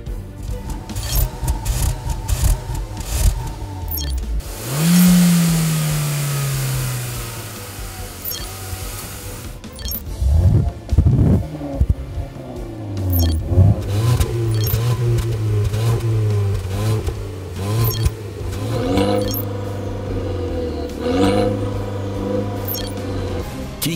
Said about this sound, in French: Aujourd'hui, compétition de son de moteur.